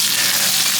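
Garlic, two cloves, sizzles hard in a frying pan while being basted with a spoon, a steady loud crackling hiss with no talk over it.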